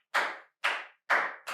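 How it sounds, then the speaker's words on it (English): Four sharp hand claps ring out alone in a quick, evenly spaced rhythm, each crisp and loud with a short decay, the last one slightly softer and cut off. "That is what that clap was."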